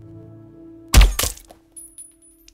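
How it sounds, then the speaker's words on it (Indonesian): A single sharp pistol shot cracks loudly after a low hum in a film, followed by a brief echoing tail and a few faint clatters. "ternyata si penembak adalah Antonio, si petinggi polisi"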